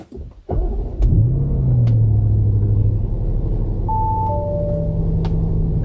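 A 2021 Audi RS6 Avant engine fires up with a sharp snarl, then settles into a steady, deep idle rumble close by, with a couple of brief electronic chime tones in the cabin over it.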